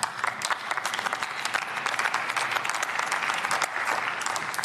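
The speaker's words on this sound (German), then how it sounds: "Applaus" Members of the German Bundestag applaud during a plenary debate, a steady, dense wash of many hands clapping filling the chamber without pause.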